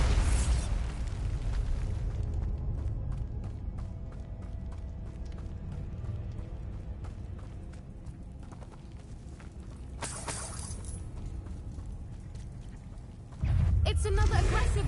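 Bombarda explosion spells going off in the video game Hogwarts Legacy, a continuous roar of magical blasts and combat noise with sharp crackling bursts near the ten-second mark and a louder impact near the end.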